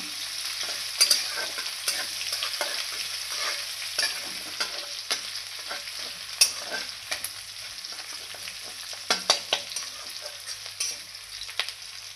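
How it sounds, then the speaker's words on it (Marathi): Crushed garlic sizzles in hot oil alongside green chillies for a moth bean curry: a soft, continuous frying crackle with frequent light spoon scrapes and taps against the pan over about twelve seconds. "ठेचून घेतलेला लसूण टाकून घेऊया त्यामध्ये। लसूण थोडा खरपूस भाजून घेऊया।"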